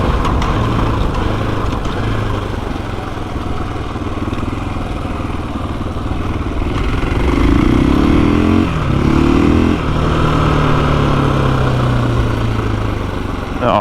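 A 2021 KTM 500 EXC dirt bike engine runs close by, a loud continuous idle that swells into a couple of brief revs partway through, with no talking.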